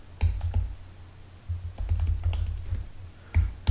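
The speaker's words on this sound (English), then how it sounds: "if I can type." Bursts of computer keyboard typing while code is written, close and fairly loud, with short clustered keystroke runs separated by brief pauses and a final burst at the end.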